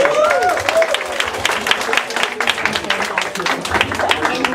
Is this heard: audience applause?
yes